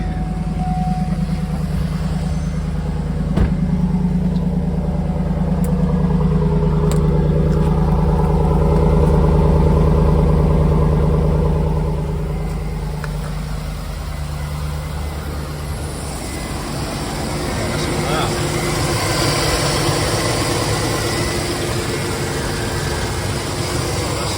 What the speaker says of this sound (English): Let's do a cold start on it. First time starting it.